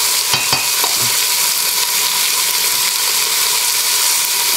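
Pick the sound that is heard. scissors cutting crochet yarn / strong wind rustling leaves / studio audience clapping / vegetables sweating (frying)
vegetables sweating (frying)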